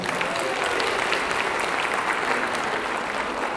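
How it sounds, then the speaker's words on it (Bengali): Applause from a concert audience at a live show in Melbourne, a continuous, even roar of many hands clapping at moderate loudness, heard alone without talk. "একটা জোরে হাততালি আরেকবার।"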